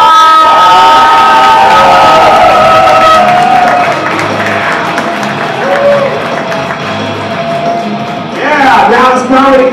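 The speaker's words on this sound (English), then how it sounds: "Big round of applause." A comedy club audience on a Saturday night in Dallas cheers and applauds loudly for a comedian, with dense crowd noise sustained throughout and a burst of whooping near the end.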